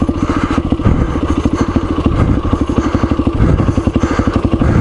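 A dirt motorcycle with a recluse clutch, geared up one tooth in front, chugs loudly and close with a steady low pulsing throb as it climbs a steep trail, with some clatter and thumps along the way.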